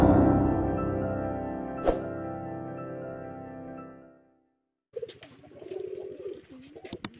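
Pigeons on a farm give repeated soft, throaty coos, with a few sharp clicks and flutters nearby. A steady tonal hum fills the first half before the sound drops out briefly and the cooing carries on.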